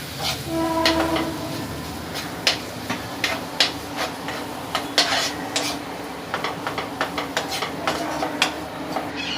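A spoon scrapes and clatters in a pan as ginger-garlic paste is stirred into frying onions, with rapid repeated metallic strokes over a low sizzle, close and moderately loud, no voices.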